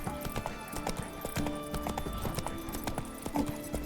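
In The Witcher 3 video game, the horse Roach gallops with rapid, steady clip-clop hoofbeats and a jingle of tack, close and continuous throughout.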